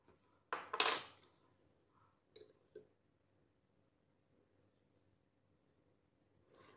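A metal spoon clinks against a dish while vegetarian fish sauce is added during prep for bamboo-leaf chicken jerky; one loud clatter followed by a few lighter taps, close and alone.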